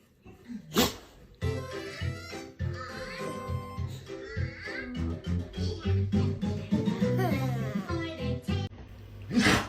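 A dog sneezes with sharp, close snorts, several in quick succession, amid excited human voices and laughter.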